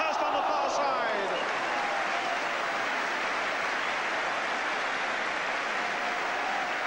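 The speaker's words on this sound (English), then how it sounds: "Applause there for Devonshire." A large stadium crowd at a 1983 West Ham United v Manchester United First Division football match gives sustained, broad applause and roar, a dense wash of clapping and cheering from all around that holds steady throughout.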